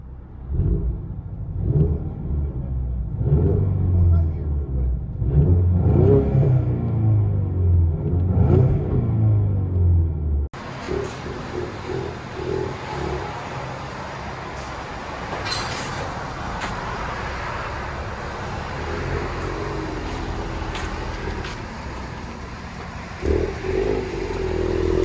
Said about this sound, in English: Let you guys hear on the inside.